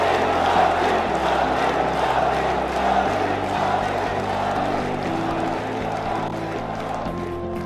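A large crowd at an event welcoming Modi at the Mahakal Lok inauguration in Ujjain sends up a dense, continuous roar of cheering and clapping throughout.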